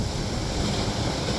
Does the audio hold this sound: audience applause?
no